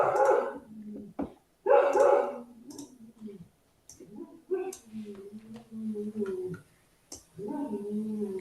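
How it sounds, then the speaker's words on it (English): A pet dog barks at a UPS delivery driver indoors, sharp bursts and yips coming in several clusters, fairly close and loud, with a short lull between volleys and whimpering tones mixed in. "my dog always goes crazy. I'm just letting her do her thing and bark at the UPS guy"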